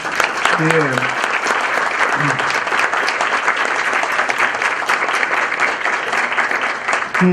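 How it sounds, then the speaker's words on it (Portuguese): A lecture audience at an academic science-and-faith event in Brazil gives a professor a sustained round of applause. The clapping is full and steady, with a voice talking briefly over it near the start and again at the end. "Eu gostaria, inclusive, de pedir que vocês dessem uma salva de aplausos"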